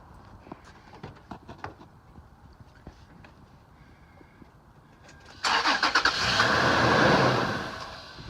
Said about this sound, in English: go ahead and start the car